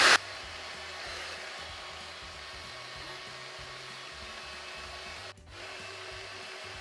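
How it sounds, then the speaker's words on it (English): A cheap Dyson Airwrap-style hot air curling wand blows a steady, close airflow like a hair dryer, holding an even rushing tone with a brief dip near the end. "the air literally just comes out of it like a normal hairdryer"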